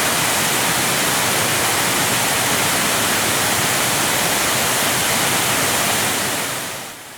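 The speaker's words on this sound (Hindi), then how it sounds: "रेणुका जी मंदिर के पहुंच मार्ग के बीच में एक विशालकाय झरना बहता है" Huge waterfall on the mountain road about 10 km before Renuka Ji temple: a loud, steady roar of rushing, crashing water, close and unbroken, dropping away at the very end.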